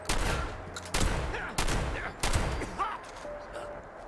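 Gunshots aimed at raiders in Fallout 76: four loud, sharp blasts ring out at roughly regular intervals, each one trailing a brief echo before quieter game sounds.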